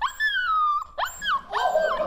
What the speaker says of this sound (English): Practicing his howling already.